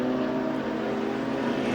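The Truewood Furniture BMW 330Ci race car drives on circuit during a BMW M Performance Parts Race Series round, a sustained, steady engine drone heard nearby with no voices over it.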